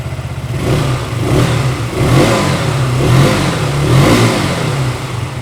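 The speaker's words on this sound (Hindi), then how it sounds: "अब मैं आपको इसकी एग्जॉस्ट साउंड सुनाता हूँ।" A KTM 125cc motorcycle exhaust revs up and down several times close by, steady engine drone with repeated throttle blips swelling and falling, no talking.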